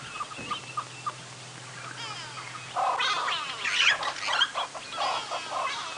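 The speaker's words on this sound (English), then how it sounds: "There are hornbills, drongos," Hornbills, drongos and starlings scold roosting owls at sunrise in the African bush, a busy mix of chattering, whistling and squawking calls that starts faint and swells into a loud, overlapping chorus.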